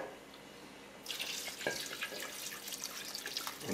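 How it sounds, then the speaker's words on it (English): Homemade beef broth pours into an oxtail stew pot, starting abruptly after a second of quiet and then running as a steady, close splashing stream. "now we're going to add the homemade beef broth"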